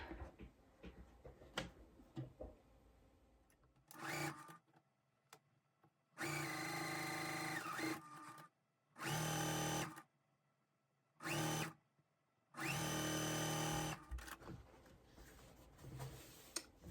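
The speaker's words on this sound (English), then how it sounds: "So now we're gonna sew the entire unit." A sewing machine stitches a quilt block unit in several bursts of steady whirring, the longest lasting about two seconds, separated by quiet pauses with faint handling clicks and taps.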